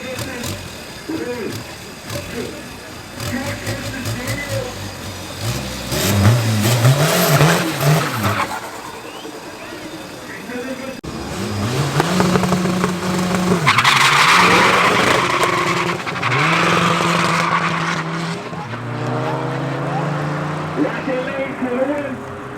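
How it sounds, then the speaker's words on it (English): Seat Cupra and a VW Golf 6 GTI racing head to head at Midvaal Raceway, engines roaring and tyres squealing in loud bursts that build, fade and surge again, with a commentator talking over the cars. "for the second run of round 2, we got Eddie going up against the Golf 6 GTI"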